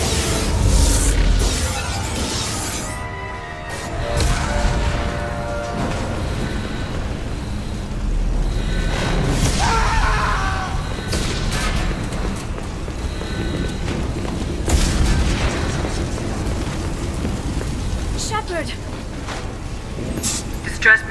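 Mass Effect ship under attack, hull explosions and crashing debris rumbling through a dense, chaotic din, with several sharp louder bursts, and voices calling out over the noise.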